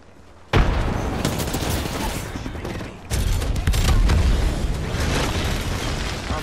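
Frag grenade blast and gunfire in the shooter video game Apex Legends: a loud burst opens the clip, followed by sustained rattling gunfire and booming impacts that continue densely throughout.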